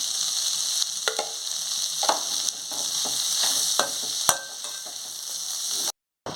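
Steady sizzling of broad bean and fenugreek curry frying in a pan, broken by occasional sharp scrapes and clinks of a spoon stirring, no talk.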